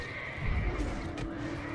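Horses in World of Warcraft neigh in a short, moderately loud whinny over steady game background noise, with faint clip-clop hoof sounds mixed in.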